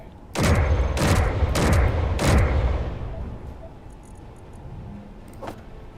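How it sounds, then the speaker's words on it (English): Guns on a Space Engineers ship fire at a passing faction ship: four loud, sharp bursts in quick succession over roughly two seconds, trailing off into a lower mechanical hum with a faint later pop. "Just my guns poking a passing faction ship"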